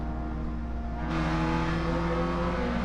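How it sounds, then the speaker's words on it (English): A race car engine holds at the rev limiter before a race start, a loud steady droning roar that rises and stays pinned at high revs throughout. "That is the rev limiter."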